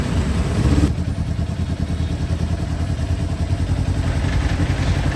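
A Kawasaki Ninja 400 motorcycle engine rumbles steadily at mid speed in second gear in city traffic, with mechanical clatter and wind noise, close and loud, with no talking.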